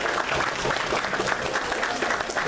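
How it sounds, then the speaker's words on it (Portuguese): An audience at a talk on the launch of Fullmetal Alchemist applauds for Marcelo Del Greco, dense continuous clapping, close and loud throughout. "vamos dar uma salva de palmas pro cabelo dele"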